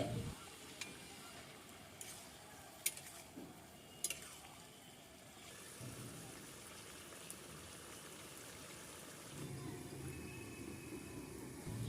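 Fish curry of rohu with eggplant, cauliflower and tomato simmering in a pan, giving a steady low bubbling sizzle throughout with a few sharp clinks and a louder stretch near the end.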